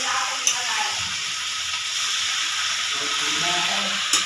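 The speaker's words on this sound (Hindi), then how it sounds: "अभी चलत हुए भाजी ला डाल के चम्मच में खोवत है मोर मम्मी" A spoon stirs chana bhaji greens in a hot pan, with a steady hiss of frying filling the clip and a couple of faint scrapes near the start and end, close and continuous.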